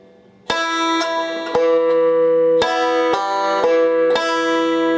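Banjo picking a roll with a chord from the Temperance Reel, bright plucked notes ringing out in a quick, even sequence, close and loud with no talk.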